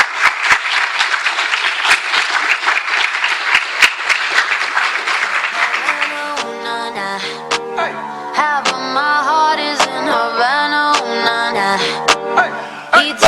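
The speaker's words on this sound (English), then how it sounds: "Give them a big round of applause." An audience at the USA Petite Pageant applauds contestants returning to the stage. The clapping is loud and dense at first, then continues under music with sharp individual claps for the rest of the clip.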